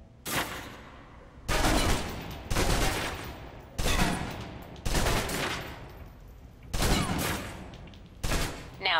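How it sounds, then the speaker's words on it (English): A submachine gun in the video game Alpha Protocol empties its clip in about six loud, sustained bursts of automatic fire, each broken by a brief gap. "Now, let's move on to the submachine gun. Now let's empty the clip."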